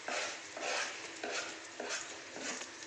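Spices and ginger-garlic paste for chicken biryani being stirred in a hot pan, with turmeric, chili, cumin, coriander and chicken masala, a steady sizzle broken by repeated scraping strokes of a spoon roughly every half second, close and alone.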